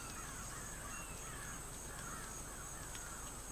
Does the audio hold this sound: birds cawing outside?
yes